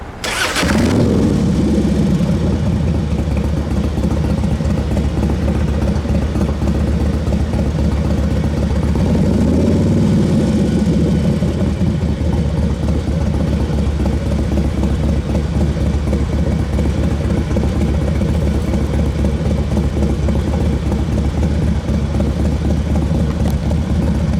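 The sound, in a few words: 2005 Harley-Davidson Dyna motorcycle engine starting and idling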